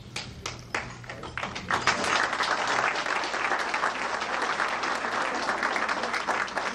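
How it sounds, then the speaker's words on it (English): An audience at a 1992 community award dinner claps, starting with a few separate sharp claps and building into sustained, fairly close applause that carries on to the end. "I think you should give yourselves a round of applause"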